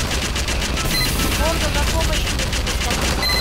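Automatic gunfire in Garry's Mod, a Starship Troopers–style mode: steady, loud bursts of shots over a noisy battlefield, running the whole time with voices talking underneath.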